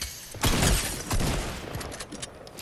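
Sniper rifle shots in the Fortnite video game, two loud, sharp cracks about half a second apart followed by a fading rumble and scattered smaller impacts.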